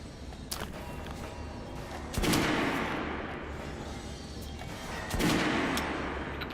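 A firing squad's volley of gunfire in the video game Metro Last Light, with two loud bursts of shots about three seconds apart, each ringing out over a steady rumbling background.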